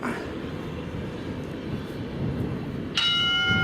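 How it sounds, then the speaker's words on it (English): A single bright exercise timer bell strike rings out near the end over a steady background rumble, its tone lingering briefly. "You're going to hear the bell."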